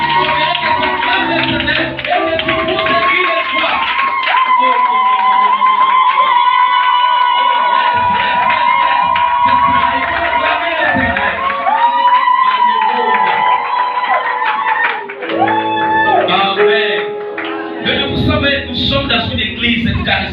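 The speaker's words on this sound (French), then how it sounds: "Acclamons pour les acclamations." A charismatic church congregation cheers and acclaims loudly and without pause, a dense wall of shouting voices mixed with clapping and whoops, with a few sustained calls rising above the crowd.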